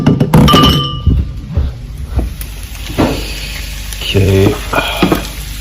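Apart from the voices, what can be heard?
eggs poured into a pan and frying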